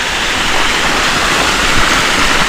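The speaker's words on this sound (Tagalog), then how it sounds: "Malakas naman yung lagas-las ng tubig" A small roadside waterfall in Infanta, Quezon, rushes in a loud, dense, steady broadband roar of falling water, close by and unbroken.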